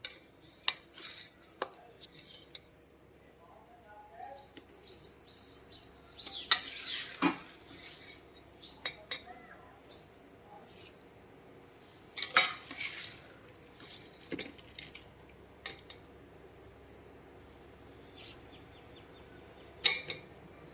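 Washed rice is tipped into a pot of Chettinad country chicken biryani masala and stirred, with scattered scraping and clinking of a metal spoon against the pot and soft sizzling in between, close and fairly quiet.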